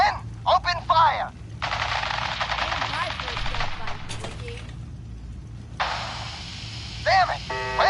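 In the video game Fallout 4, police open fire in long bursts of rapid automatic gunfire, with crackling volleys starting and stopping, while voices shout over the shooting.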